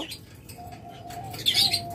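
Small local-bred yellow collar mutation pet birds with red wings and close rings chirp and tweet nearby. Soft fluttering runs under the calls, which rise to a brighter burst near the end. No one speaks.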